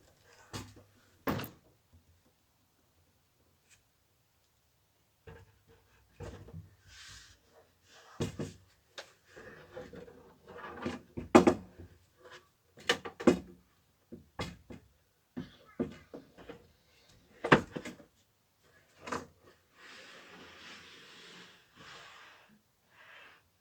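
A wooden drawer being fitted onto the slides of a DIY bed in a VW T6 Multivan long campervan gives scattered knocks, clunks and short sliding scrapes, separated by quiet gaps.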